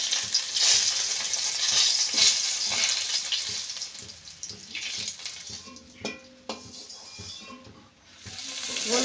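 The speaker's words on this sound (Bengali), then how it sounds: "এবার চিংড়ি মাছগুলো ভেজে নেব।" Shrimp fry in a hot pan for a Bengali bhindi and prawn dish, with steady loud sizzling broken by scraping as they are stirred and turned.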